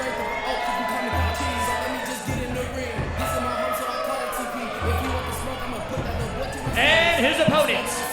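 A live pro wrestling crowd jeering a female wrestler, a constant murmur of voices with bursts of shouting and a louder swell near the end, under a commentator talking.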